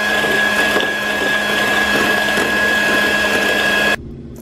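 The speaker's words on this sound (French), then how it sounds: "Je fouette les jaunes d'œufs avec la cassonade." Egg yolks whisked with brown sugar, likely by an electric mixer, give a loud, steady mechanical whir with a constant tone that runs without a break for about four seconds, then cuts off abruptly.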